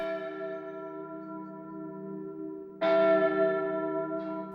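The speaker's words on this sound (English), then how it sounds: "All other times, bells called the women to work." Mill bells calling workers ring out, a sustained resonant bell tone decaying slowly before a second louder strike about halfway through, clear and unaccompanied by voices.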